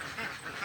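Ducks quack on a combined duck and fish farm, a short, faint burst of nasal calls heard at a distance, with no talk.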